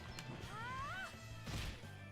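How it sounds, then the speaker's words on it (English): A Mercy Smash attack landing in the video game Bravely Default 2: a short electronic whoosh with a rising tone, followed by a heavy thwacking impact, faint over a constant game soundtrack. "I'm just gonna keep mercy smashing you."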